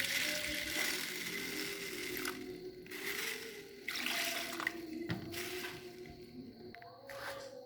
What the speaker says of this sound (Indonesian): Kita akan merendam kacang hijau selama 12 jam.